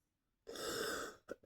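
A single raspy cough, quiet and close, followed by a short second huff.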